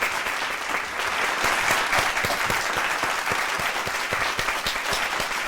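Audience applause at a Hindi poetry gathering for Youth Day, welcoming a senior guest poet. It is a steady, dense wash of many hands clapping, moderately loud and close, running evenly throughout with no talk over it.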